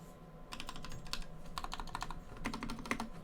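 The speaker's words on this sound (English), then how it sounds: "We're now going to do a bit of a typing test." Brass Elephant S7 mechanical keyboard typed on in bursts of rapid clacky keystrokes, close and crisp, with short pauses between runs and no talking.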